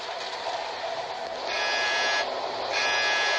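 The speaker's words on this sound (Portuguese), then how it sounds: "Quando eu ouço esse alarme de explosão tocar, a coisa é bem séria." A steady electronic solar eruption alarm buzzer drones continuously, growing louder in two separate stretches, with no voices.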